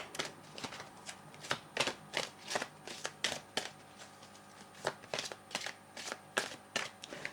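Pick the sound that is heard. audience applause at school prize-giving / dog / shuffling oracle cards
shuffling oracle cards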